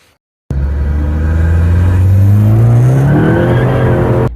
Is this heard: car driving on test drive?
yes